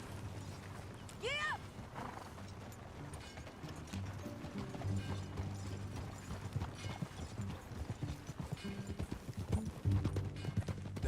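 Horse hooves clip-clop at a walking pace in the Red Dead Redemption 2 game world, a soft repeated rhythm under tack rattles and low game music, with a brief whinny early on.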